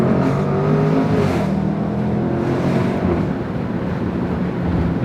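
A 2018 Range Rover Sport SVR engine and exhaust roar steadily and loudly up close, with a sustained, rising rev that swells and eases without any voices over it.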